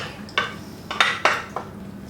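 Baking dishes swapped in a kitchen while making white cheddar mac and cheese: several sharp ceramic clinks and knocks, close and fairly loud, spaced irregularly across two seconds with no talking.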